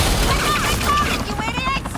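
Police open fire in a Batman Telltale game scene, a burst of rapid gunshots with a metallic ring, close and loud.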